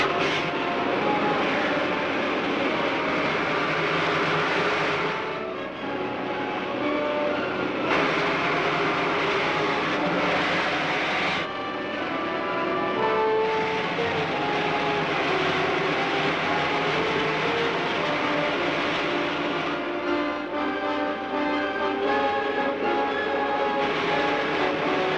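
Rocket main jets fire in a vintage film sound effect, a loud continuous roaring rush with shifting tonal layers. Brief changes in texture pass through it, and no one speaks.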